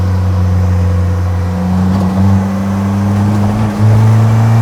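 A Polaris Slingshot, a light three-wheeled motorcycle-car of about 1,800 pounds with an Ecotech engine, drones loudly and close up, its engine tone climbing in two small steps as it accelerates, with constant road and wind rush and no talking.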